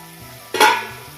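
A single quick scrape of stirring cauliflower in a sizzling pan, close and brief, with quiet frying around it.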